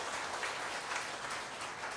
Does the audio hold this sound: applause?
yes